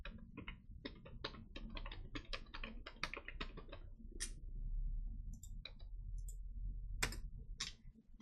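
Quiet computer keyboard keystrokes during an Excel spreadsheet exercise, a run of light, irregular clicks and taps close to the mic, including a Ctrl+C copy shortcut.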